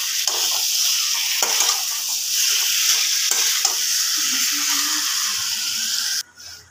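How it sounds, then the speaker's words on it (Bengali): Chicken pieces being stir-fried with spices in a pan over high gas flame, a steady close sizzle with intermittent scraping stirs, cutting off abruptly near the end. "মাংসটা মশলার সাথে খুব ভালোভাবে একটু কষিয়ে নিতে হবে।"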